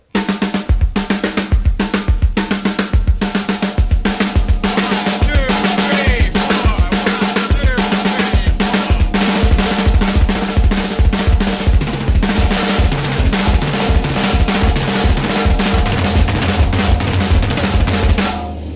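Rapid, tightly repeated drum strokes with six-note double bass drum patterns driving underneath, loud and busy, played solo without any talking.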